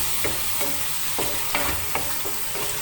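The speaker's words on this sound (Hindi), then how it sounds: "और अब मैं टमाटर के साथ इन सब मसालों को अच्छी तरह भून लूँगी" Tomatoes frying in a pan with spices for kofta biryani, with a steady close sizzle broken by several clear stirring scrapes of a spoon against the pan.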